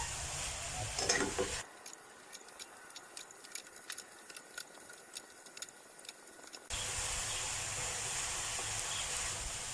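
Cabbage stir-fried in a pan for vegetarian instant noodles: a broadband sizzle at the start and end, with a quieter middle stretch of light, repeated scraping and tapping from stirring.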